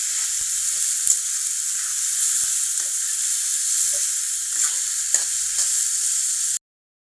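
Tilapia fish frying in a pan gives a loud, continuous hiss of hot oil, broken now and then by sharp pops and crackles, before it cuts off abruptly near the end.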